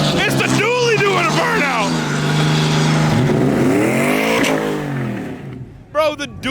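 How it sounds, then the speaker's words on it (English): A dually pickup truck doing a burnout at a car meet, a loud roaring engine with rising and falling revs and tire squeal, with people talking over it before it fades out near the end. "Bro, the dually just did a burnout."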